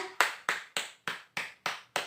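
Classroom applause after a group presentation comes as seven crisp, evenly spaced claps, close and distinct, with no voices.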